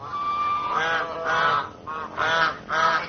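Ducks in a miniature culture park on the outskirts of Jakarta give a series of about five loud, nasal honks in close succession, near and clear with no talking.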